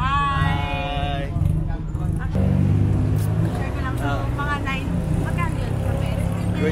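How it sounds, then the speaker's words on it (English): Tuk-tuk auto rickshaw traffic on a street in Thailand, engine and road noise running steadily under lively talk and chatter, with a horn-like tonal burst near the start. "Tuk-tuk yeah, we're gonna ride some tuk-tuk."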